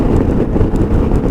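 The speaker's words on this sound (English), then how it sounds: "very windy again on the Costa del Sol." Strong wind on the Costa del Sol buffets the microphone in a steady, low roar with gusty rumbles throughout, loud and close, with no other clear sounds.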